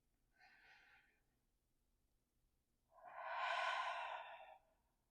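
Two breaths during a breathing exercise, a short soft inhale followed after a pause by a longer, fuller exhale-like rush of air, close and quiet with no talking.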